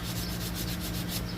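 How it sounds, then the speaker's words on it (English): Close, steady sanding of wood for a bathroom vanity, a continuous rough rubbing hiss with a quick back-and-forth rhythm. "I'm going to finish sanding this up"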